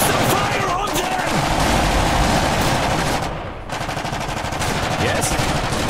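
Sustained machine gun fire from the Polania faction in the Iron Harvest real-time strategy game, loud, dense rapid bursts running almost continuously with a brief lull midway, mixed with battle noise and voiced unit chatter.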